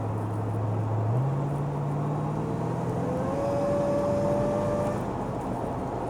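Kenny Brown-modified engine in a 1998 Ford Crown Victoria P71 police interceptor, a steady low drone heard from inside the car that climbs gradually in pitch as it accelerates, fairly quiet under broad road rumble.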